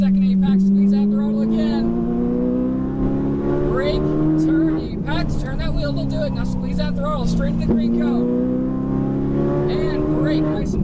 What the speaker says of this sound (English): Start squeezing that throttle, Alex.